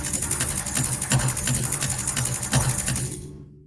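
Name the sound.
Soundiron Rust 4 Jungle Fever FX preset, drop noise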